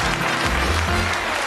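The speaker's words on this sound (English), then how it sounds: "Give them a round of applause" A studio audience applauds contestants on a darts-themed British game show, a brief dense roar of clapping holding steady throughout.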